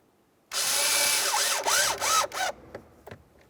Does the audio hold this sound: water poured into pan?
no